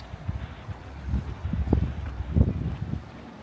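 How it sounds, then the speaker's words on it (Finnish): Strong wind buffets the microphone outdoors on Mykonos, low rumbling gusts that rise and fall in uneven bursts, fairly quiet overall with no talking. "Täällä on siis ollut joka päivä niin tosi kova tuuli, mutta tänään täällä on vielä kovempi."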